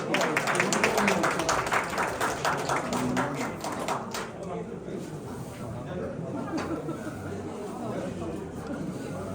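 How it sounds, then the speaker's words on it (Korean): An audience at a livestock farmers' seminar on calf mortality and respiratory disease claps to welcome a speaker. Dense applause lasts about four seconds, then fades into low room murmur. "그럼 강기용 원장님을 큰 박수로 모시겠습니다."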